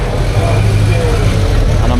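A restored Ford Capri 2-litre S on twin 40 Weber carburettors runs at a classic car auction, its deep, throbbing engine rumble loud and steady close by while voices talk over it.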